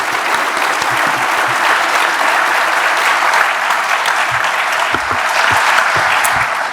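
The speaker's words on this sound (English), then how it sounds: "let's give a round of applause for the students" An audience at a university association assembly applauds the students, dense sustained clapping at an even level for several seconds, loud and close with a faint murmur of voices underneath.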